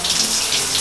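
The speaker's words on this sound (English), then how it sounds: "Now we're gonna turn the hot water off" Shower water runs steadily in a bathroom, a close, loud, even hiss of spray with no break.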